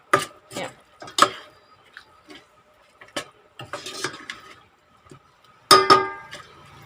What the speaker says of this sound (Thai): เอาลงมาผัดแต่เราไม่ได้ใส่น้ำมัน จะคั่วด้วยไฟอ่อนๆนะคะ